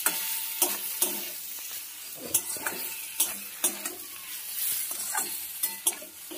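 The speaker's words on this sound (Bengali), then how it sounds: "আবার একটু নাড়িয়ে চাড়িয়ে দেবো ভালো করে।" Elephant foot yam stalk curry frying in a pan, stirred with a spatula: a steady close sizzle broken by repeated scraping and clinking strokes against the metal, with no talking.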